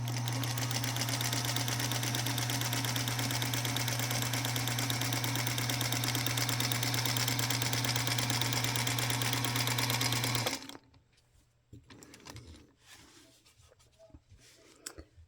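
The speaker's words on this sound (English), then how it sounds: "I'm just quilting a grid, getting ready to do some fun stuff, but just getting the basics in" A Featherweight sewing machine runs steadily with a fast, even mechanical whir and needle chatter while free motion quilting a grid, then stops abruptly, leaving quiet handling noises of the fabric.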